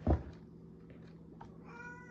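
Pet cat meowing indoors, a faint drawn-out meow after a brief knock, with quiet room noise and a low hum underneath, no talking.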